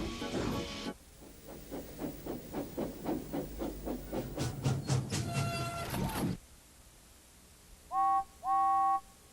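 A cartoon train gets moving, with a steady run of rhythmic chuffs and hissing steam that builds and quickens, then cuts off, followed by two short whistle-like toots.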